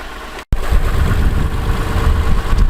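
A Lexus 3.5 liter double overhead cam engine idles under an open hood, a steady close rumble that starts abruptly after a brief cut and holds even throughout, with no talking.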